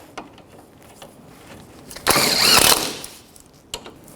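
A ratchet snugging up the two 17 mm hub nuts on a 2006-12 Toyota RAV4 front wheel bearing job gives a short burst of clicking and rasping near the middle, amid faint workshop clicks.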